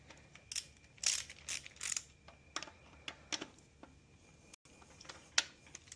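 Torque wrench clicking in sharp, irregular metallic ticks and ratchet snaps while tightening the rod bearings on a Massey Ferguson 35 Continental Z134 gas engine during a rebuild, quiet and close with no talking.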